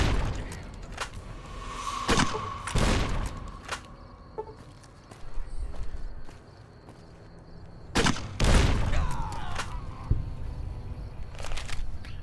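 40mm grenades are fired in Fallout: New Vegas. Several sharp, booming blasts land in clusters, with quieter crackles and ambient gaps between them.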